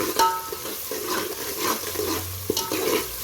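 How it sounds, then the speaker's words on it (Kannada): Onions fry in plenty of oil with mint leaves for mutton pulao, a close sizzling hiss mixed with repeated stirring scrapes and light clinks of a spoon on the pot. "ಈರುಳ್ಳಿ ಚೆನ್ನಾಗಿ ಹುರಿಬೇಕು, ಹಸಿ ವಾಸನೆ ಹೋಗ್ಬೇಕದು."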